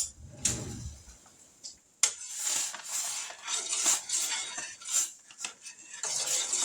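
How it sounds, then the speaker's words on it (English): A spoon stirring and scraping inside a pot, a series of bright metallic clinks and scrapes in an uneven rhythm after a short pause, close and fairly loud, with no talking. "I guess I need a spoon to stir it with."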